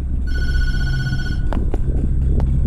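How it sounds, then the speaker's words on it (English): Telephone ringing in the horror video game Tattletail: a bright electronic ring tone sustained for over a second, then several short sharp bursts over a low droning background hum. "What if I want to answer the phone?"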